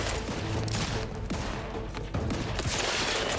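Rapid volleys of gunfire in the video game The Outer Worlds 2, dense bursts of shots with brief pauses between them, loud and close.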